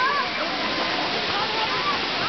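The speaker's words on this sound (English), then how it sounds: "But this is the main attraction. The high end of the waterfall." Kuang Si waterfall in Laos, at the high end of its main cascade, sends up a steady, dense roar of falling water, close and loud throughout, with a faint voice barely audible beneath it.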